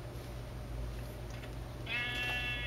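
Sheep bleat in the Minecraft-based game Halocraft, a single bleat rising clearly near the end over a steady low background drone.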